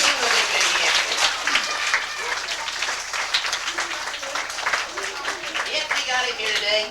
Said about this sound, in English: Clap really loudly for my buddy Jonathan. Give him a big, big hand.